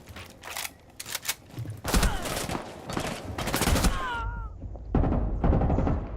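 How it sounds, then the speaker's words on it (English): Video game gunfire in a squad shooter match, dense rapid bursts of shots cracking in close succession for several seconds, with a short pause before firing resumes. "They're shooting everything, but they're not hitting anything."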